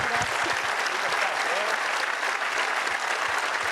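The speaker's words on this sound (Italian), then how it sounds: "Ancora un applauso per Ambra Savatini" Audience applause for Ambra Savatini at the Menarini International Fair Play Award ceremony, a loud, continuous wash of clapping from a large crowd.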